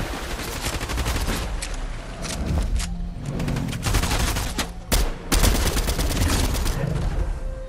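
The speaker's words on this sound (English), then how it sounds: "We're getting shot, guys" Rapid bursts of gunfire in the Fortnite video game, dense overlapping shots and volleys running loud through the whole stretch, with a couple of heavier cracks near the middle.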